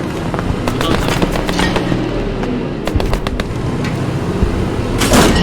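A Panzer IV/70 tank destroyer fires in the World War II game Post Scriptum: loud, sharp cannon blasts and cracks over a constant engine rumble, with battle noise close and heavy throughout.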